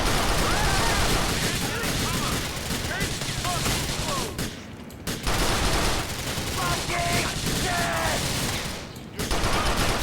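Gunfire in the video game GTA: The Lost and Damned, dense continuous volleys of shots and bursts filling the scene, with a voice talking over parts of it.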